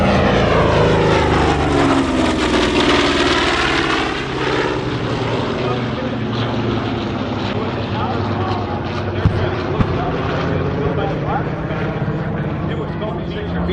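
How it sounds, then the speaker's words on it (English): A World War II A-26 propeller aircraft roars past low at an air show at EAA AirVenture Oshkosh, its loud droning engines sweeping in pitch as it passes close, with people talking underneath. "here's the A-26 low"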